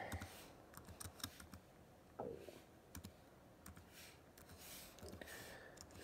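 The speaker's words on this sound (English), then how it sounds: "Sorry about the slow typing with one hand." Slow one-handed typing on a MacBook Pro keyboard, sparse irregular key clicks with uneven gaps, close and quiet with no talking.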